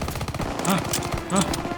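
Gunfire from the Call of Duty WWII video game comes as quick bursts of machine-gun shots in a couple of clusters, with a voice faintly present underneath.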